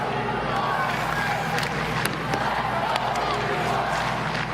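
Hockey crowd at UBS Arena during a PWHL women's game, Montreal at New York, a dense sustained roar of cheering and voices with a steady low rumble and occasional sharp shouts, loud and continuous throughout.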